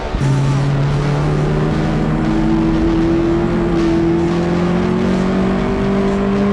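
A Peugeot-engined race car, the "Pugstang," powers through a corner during a national endurance race, its engine droning loud and steady with rising pitch as it accelerates, heard close from on board.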